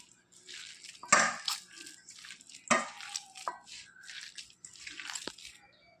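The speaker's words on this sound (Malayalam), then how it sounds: "ഞാനിത് നന്നായിട്ട് കുഴച്ചെടുത്തിട്ടുണ്ട്" Wet onion batter of maida and gram flour being kneaded by hand, giving soft squishy squelches in irregular bursts, a few sharper slaps standing out, close and fairly quiet with no talk.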